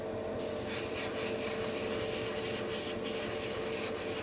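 Airbrush spraying paint onto a Bandai MG Freedom Gundam model kit frame, a soft continuous hiss that starts abruptly and holds steady, close and quiet with no talking.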